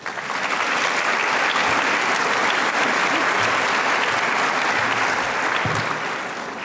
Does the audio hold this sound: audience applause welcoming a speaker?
yes